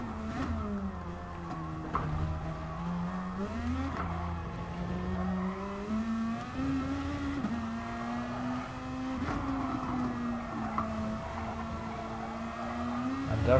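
Several GR.2 race car engines in GT Sport run at Fuji Speedway, a steady high droning whine rising and falling with gear shifts throughout, with a voice talking intermittently over the racing.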